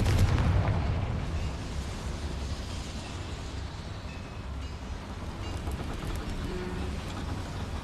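A Confringo fire spell explosion inside a small mine in Hogwarts Legacy, a loud booming blast at the start trailing into a long rumbling decay.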